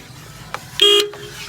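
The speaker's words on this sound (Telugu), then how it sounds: "Horn okay." Horn of a 2019 Dost Plus BS4 diesel pickup truck, one short, loud, clear toot lasting about a fifth of a second, close by, after a couple of faint clicks.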